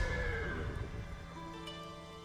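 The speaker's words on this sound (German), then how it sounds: "Geilo, wir haben unser Pferdl wieder." Horse in the video game Ghost of Tsushima gives a single drawn-out whinny, loud and close, fading toward the end with no talk.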